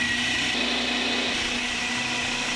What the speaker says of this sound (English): I'm gonna put this in a blender.